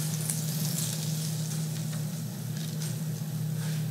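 Salmon cooking in butter on a hot grill, a constant close sizzle with a low steady hum beneath and faint crackles, with no talk.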